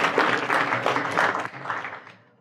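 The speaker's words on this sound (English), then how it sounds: "And let's clap." An audience claps at a talk, a dense burst of applause lasting about two seconds before fading away at the end.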